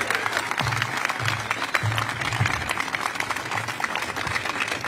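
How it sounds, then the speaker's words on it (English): Audience applause at a city hall event, a dense sustained clapping from a crowd, steady and fairly loud throughout, with faint voices mixed in underneath. "Let's give her another round of applause."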